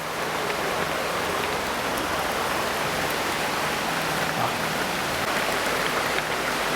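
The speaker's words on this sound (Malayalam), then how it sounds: "പുറകിൽ നല്ല മഴ," Heavy rain pours down in a forest setting, a loud, dense, unbroken roar of water on surfaces with no voices over it.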